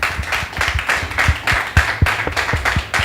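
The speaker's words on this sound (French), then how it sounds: "Est-ce qu'on peut recevoir avec des applaudissements bien mérités Monsieur Aimé Khessou," Studio audience applause greets a guest on a Beninese TV talk program, a steady stretch of clapping with uneven bursts that stays fairly loud throughout.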